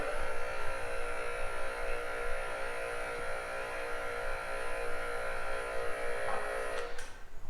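A QuickJack car lift in a home garage hums with a steady electric motor whine while raising a car, holding a constant tone for about seven seconds before cutting off with a brief clunk.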